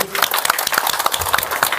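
A crowd at an anniversary gathering claps in a steady rhythm, about seven sharp, evenly spaced claps in under two seconds, fairly loud and close, with faint background voices.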